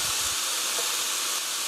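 Soy sauce (jin-ganjang) hitting a hot frying pan of stir-fried tofu sauce ingredients, a loud steady broadband sizzle and hiss close by, constant throughout with no talking.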